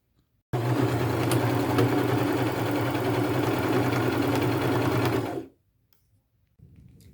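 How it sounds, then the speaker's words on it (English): A sewing machine runs steadily for about five seconds, stitching around the lining of a denim belt bag at a quarter-inch seam, then stops abruptly and leaves near silence. "So now I will just sew all the way around the bag, 1/4 inch seam allowance, and I'll go around twice."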